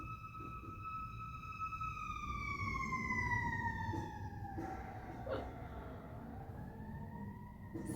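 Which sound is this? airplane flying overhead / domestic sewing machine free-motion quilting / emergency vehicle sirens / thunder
emergency vehicle sirens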